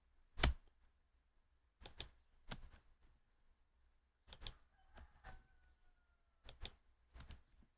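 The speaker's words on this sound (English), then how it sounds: "Let me just quickly type before we reload our browser." Sparse keystrokes tap on a computer keyboard, quiet and close, in short irregular clusters of one to three clicks separated by silent pauses.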